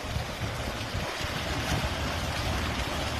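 Heavy sewage wastewater pours steadily into the Iskandariya river, making a constant broadband rushing wash that stays loud and unbroken throughout with no talking.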